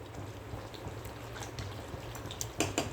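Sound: stirring mushroom biryani with a wooden ladle

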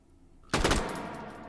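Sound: Beretta Model 38 SMG firing in H3VR video game

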